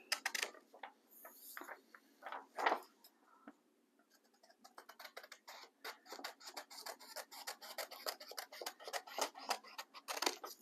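Scissors snipping along the outline edge of a paper-craft envelope: quiet, close rasping cuts in quick irregular runs, pausing briefly midway before steady snipping resumes.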